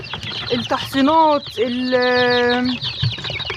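Young chicks and poultry kept with ducks calling around a home yard, loud rising and falling clucking and chirping cries in a few drawn-out bursts, close by.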